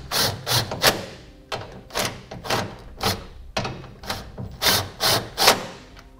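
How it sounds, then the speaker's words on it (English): Short bursts of clicking and rubbing as 3/8 bolts are tightened on the brackets of Firestone Sport-Rite air helper springs, about a dozen close, rhythmic spurts of tool noise separated by brief pauses. "Now we can tighten these down and torque them to spec."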